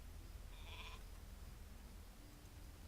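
A single short bleat from a ewe in a video game rises over a constant soft background hiss and fades quickly, faint and somewhat distant.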